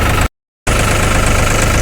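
A Swaraj 744XT or New Holland 3600 tractor engine runs nearby with a steady, loud, knocking mid-pitched drone, broken by a brief dropout of silence before the rumble resumes unchanged.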